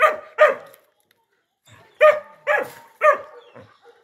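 A ranch dog barks close by in sharp, separate barks: two quick ones, a pause, then a run of four or five, with some fainter yips at the end.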